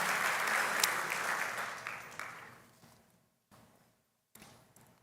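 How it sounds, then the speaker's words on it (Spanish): Loud congregational applause for the Lord inside a church, a dense sustained burst of clapping that gradually thins and fades out, followed by brief scattered claps near the end. "Dale ese fuerte aplauso al Señor."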